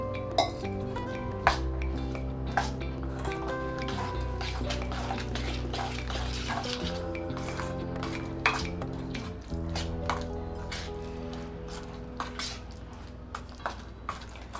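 Semolina, poha and yogurt dosa batter is mixed in a bowl, giving soft wet squishing with repeated clinks of a spoon against the bowl, close up and steady throughout, with a low hum underneath.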